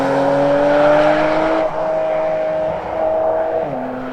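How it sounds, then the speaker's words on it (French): A Porsche GT4 RS with a naturally aspirated 4-litre flat-six, heard from close by, holds a loud, rising engine note through several gear changes, with brief dips between pulls and no talking. "ce flat 6 atmosphérique 4 litres dérivé de la GT3"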